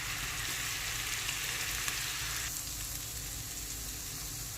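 Chopped onions sizzle in melted butter in a pan, a continuous close hissing fry that eases slightly partway through.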